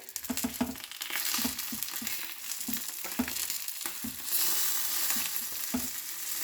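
Banana-leaf packets of Bengali mustard fish paturi cook on a pan over medium flame, with a soft, steady sizzle. Irregular stirring or shifting thumps are mixed into the frying.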